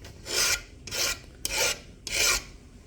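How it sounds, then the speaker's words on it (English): Sandpaper rasps across an old brass door knob plate in four even, back-and-forth strokes, each a gritty hiss about half a second long, close up and with no talking. "I'm just gonna smooth down all this so it's like a I can only assume it's a brass plate"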